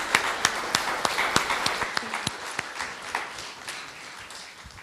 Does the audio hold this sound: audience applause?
yes